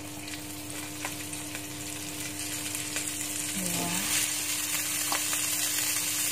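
Five tablespoons of butter melt and sizzle in a hot wok as the base for butter fried chicken, giving a steady close frying hiss with faint clicks and a single brief spoken word.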